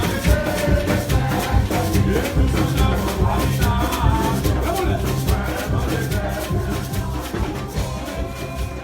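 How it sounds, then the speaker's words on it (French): Recording of a Christmas chanté Noël song, dense full-band music with steady percussive beat, loud and continuous throughout. "Ce que vous venez d'entendre, c'est le son du chanté Noël où je n'irai pas"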